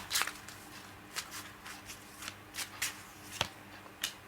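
Tarot cards being shuffled by hand at close range, with soft papery riffles and slides in irregular bursts and a few sharper snaps between quieter moments, with no voice heard.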